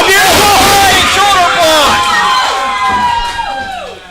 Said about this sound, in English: listen to this crowd get behind the CCW World Champion as he looks to fly away